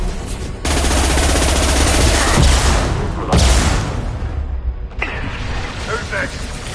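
Gunfire and bursts of weapon fire in the sci-fi shooter Mass Effect 2, loud and dense, with heavy blasts near one and three seconds that die away into scattered shots, under occasional voices.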